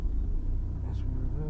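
A car reversing beside an aqueduct and water tank gives a low, steady engine rumble close by, with a brief faint higher noise partway through.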